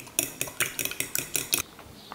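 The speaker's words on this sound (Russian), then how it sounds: "Сразу отправляю щепотку соли. И хорошенечко перемешиваем." A utensil whisks an egg with a pinch of salt in a bowl, about eight quick clinking strokes close by in a steady rhythm, then stopping.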